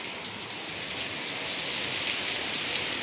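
Steady rain falls and patters on surfaces outdoors during an evening shower, a constant hiss with no voices.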